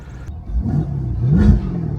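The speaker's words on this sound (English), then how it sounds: "amazing exhaust note" A Corvette C8 sports car engine revs with a rising, throaty exhaust note, swelling louder toward the end over a low rumble.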